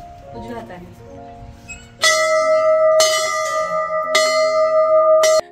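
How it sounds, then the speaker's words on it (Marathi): A metal bell at the ancient Amruteshwar Shiva temple in Akole is struck four times, each loud clang ringing on with long sustained overtones, after some quiet talk at the start. "इथली पण घंटा वाजवा."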